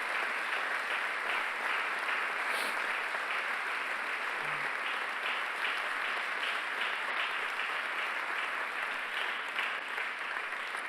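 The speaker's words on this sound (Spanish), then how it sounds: "Dale un fuerte, pero fuerte aplauso a Jesús." A church congregation applauds Jesus in a strong, sustained round of clapping that fills the room evenly for the whole stretch, dense and continuous with no speech over it.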